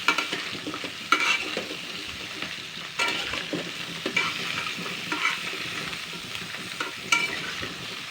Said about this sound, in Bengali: নুনটা দিয়ে এবার আমি আরও 2 মিনিট মতন ভেজে নেবো